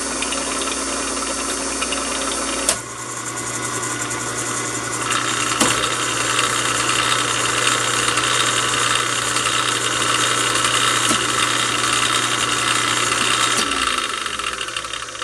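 Homemade three-phase rotary converter built from scrap parts, its motors humming steadily at close range with a constant electrical drone and faint mechanical rattle; a motor kicks in early, the pitch steps up, then the run continues evenly to the end.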